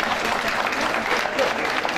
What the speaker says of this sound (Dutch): Daarom een enorm applaus voor deze vrijwilligers.